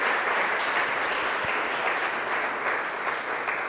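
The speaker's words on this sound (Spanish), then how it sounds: "Démosle un aplauso a Cristo" A church congregation applauds Christ with a dense, continuous wash of clapping that stays loud and even for a few seconds, with no voices on top.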